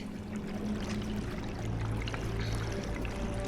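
Rising water pours in within the game Conan Exiles, a steady rushing, gushing wash that runs unbroken and fairly quiet, with no talk.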